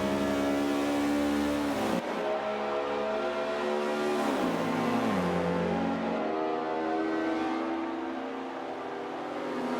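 A Honda Civic race car in Forza 5 drones loudly and continuously, its engine note rising and falling through gear changes and throttle shifts with a dip near the two-second mark, and no voices heard.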